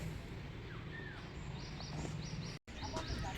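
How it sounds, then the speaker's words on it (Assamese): Birds kept in a cage at a science centre chirp and tweet in scattered short calls, fairly faint against a busy background of indoor crowd noise and voices. "সজাৰ ভিতৰৰ চৰাই"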